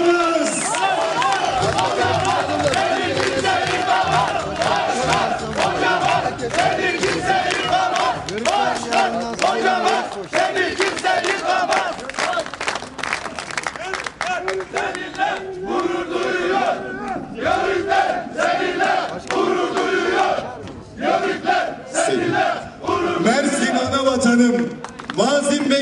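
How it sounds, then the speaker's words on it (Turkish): A large crowd at a political rally in Toroslar, Mersin, cheers, chants and applauds loudly and without letup, a dense roar of voices and clapping that fills the whole stretch, with shouting mixed in. "Torosların yörüklerinden çok kuvvetli bir alkış rica ediyorum."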